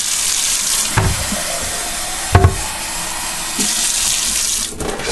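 Water runs steadily from a kitchen tap while a pot roast is being made, a broad hiss lasting several seconds with a few brief clunks and knocks from the sink.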